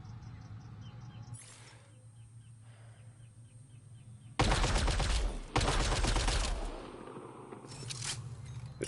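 A rapid-fire sniper rifle in the game Mass Effect Andromeda, two loud dense bursts of shots close together, each trailing off, over a quiet hum with faint chirping effects.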